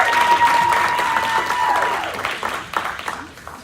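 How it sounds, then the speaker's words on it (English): Crowd applause and cheering for contestants at a Miss Phi Beta Sigma pageant, a loud dense burst that carries some voices and a held tone, then thins out. "One more round of applause for those wonderful contestants we have"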